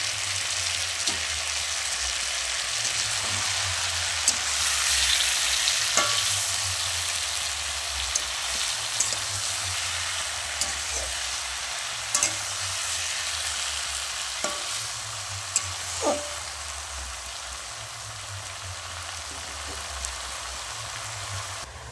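Ginger-cumin paste sizzles steadily in a hot pan at home, with a utensil stirring at regular intervals and scraping against the metal, loud and close, with no talking.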